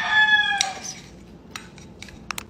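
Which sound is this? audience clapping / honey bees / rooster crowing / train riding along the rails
rooster crowing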